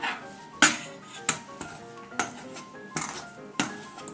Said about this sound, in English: you're going to start chopping in some chilled butter with your pastry blender